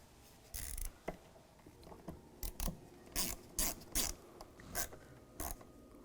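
A screwdriver snugs the screws of a mass airflow sensor into plastic housing on a 2007-2013 Chevy Silverado, with faint, close ratcheting clicks and brief scraping turns in short, irregular bursts.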